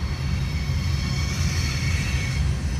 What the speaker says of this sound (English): Looks like it's a mixed freight train.